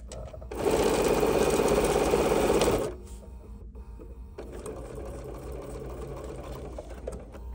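A sewing machine stitches a steampunk dop bag in a loud, fast, even run for about two seconds, then stops, followed by a quieter mechanical hum and rattle as work continues.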